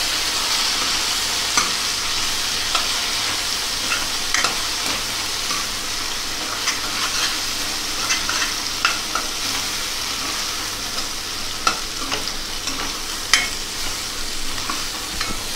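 Spice masala with turmeric frying in oil in a pan for a Khandeshi dal gandori dish, a steady close sizzle with intermittent scraping clicks of stirring throughout.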